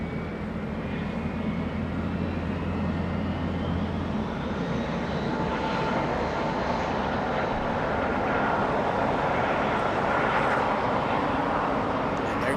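Avianca airliner taxiing across a runway at Los Angeles International Airport, a steady broad engine roar that holds evenly throughout, with a low hum early on and faint tonal whine rising above it.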